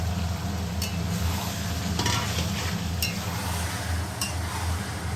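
Chicken and spiced masala sizzle steadily in a pan while being stirred, with occasional sharp clinks of a utensil against the metal over a continuous frying hiss.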